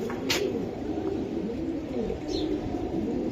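Racing pigeons murmur in a low, rolling coo that swells and fades steadily throughout, faint and nearby, with a brief high chirp near the start and no talk.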